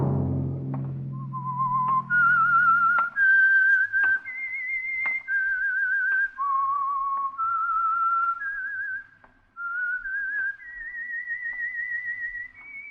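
A clear, melodic whistled theme tune for the Signal Oil program, with sustained, sliding notes, loud and close, alone without talk.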